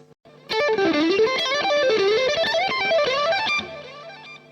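A distorted electric guitar plays a quick pentatonic exercise of picked notes that climbs and falls, shifting horizontally across positions, ending on a sustained note.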